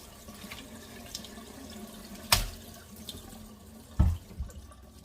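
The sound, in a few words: running tap water washing a pineapple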